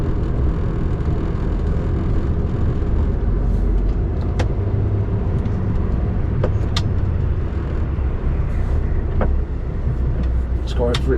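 Steady, loud road noise from inside a lorry cab as it drives onto a road near Lutterworth: a constant low engine and tyre rumble, with a few faint clicks and rattles on top and no talk.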